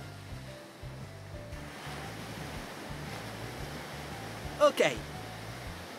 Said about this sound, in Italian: Aspetto un'onda per raccogliere dell'acqua.